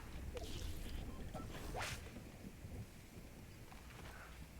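Thunderstorm in a Star Wars video game: a steady wash of rain and rumble with a sharp crack of thunder in the middle, fading to a low hiss, fairly faint.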